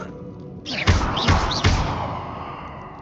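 Confringo fire spell cast in Hogwarts Legacy, heard as a sudden whooshing burst followed by three sharp, booming impacts in quick succession that trail off into a fading rumble.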